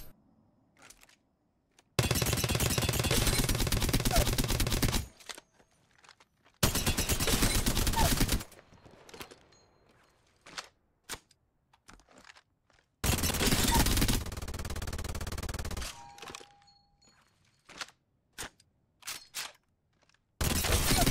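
Apex Legends weapons with swapped fire rates, an R99 submachine gun and a Spitfire light machine gun, fire three long sustained full-auto bursts separated by quiet gaps with scattered single shots and clicks.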